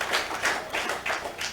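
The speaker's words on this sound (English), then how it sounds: "You need to give yourselves a round of applause for being here in such large numbers." Town hall audience in a school hall clapping for themselves, a brisk patter of hands swelling in waves at moderate distance, with no voices over it.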